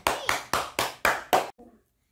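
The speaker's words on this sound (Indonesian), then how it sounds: "Ya, tepuk tangan." A few children clap in a kindergarten class, six sharp evenly spaced claps in quick rhythm followed by a faint brief murmur and then silence.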